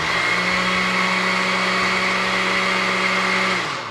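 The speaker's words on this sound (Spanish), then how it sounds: "ya creé el azúcar glass aquí con ayuda de mi licuadora y del azúcar" A kitchen blender grinds granulated sugar into powdered sugar with a loud, steady motor whine and buzz that runs continuously and then begins to wind down at the end.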